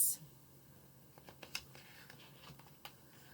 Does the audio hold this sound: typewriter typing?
yes